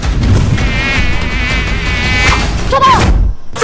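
A person's voice imitates a buzzing mosquito, holding a loud, close, steady high-pitched whine for a few seconds before a brief wavering change and a soft thump at the end.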